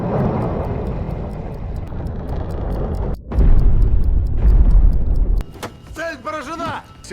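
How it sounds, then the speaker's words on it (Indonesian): Deep, heavy rumbling blasts from two torpedoes exploding underwater in the monster film Kraken, a long roaring boom that cuts off and then surges again, under narration and followed by warbling electronic tones. "Selang beberapa detik, kedua torpedo pun meledak"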